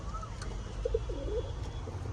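Pet pigeons give soft, low coos, a few brief rounded calls over quiet background hum.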